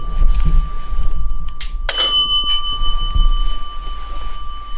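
A single sharp metallic bell-like strike rings out aboard the USS Batfish submarine, with bright sustained tones decaying slowly over a low, steady hum.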